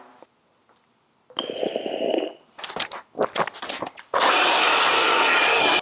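Lumber for a barn door subframe is sawn into short pieces. A few rough, irregular cutting strokes and rasps come first, then a loud, steady, broadband saw roar fills the last couple of seconds. The sound is close and there is no talking.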